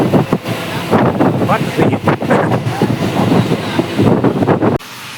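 A train runs along its rails with a steady, loud rumble and rattle, wind buffeting the microphone throughout, until the noise drops away abruptly near the end.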